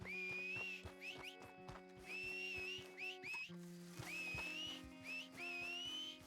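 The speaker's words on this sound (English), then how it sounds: "Mine's not responding to my whistles." Repeated sharp whistles in a Red Dead game, several rising and falling whistle calls to summon a horse, loud and clear with a steady low tone beneath and brief pauses between calls.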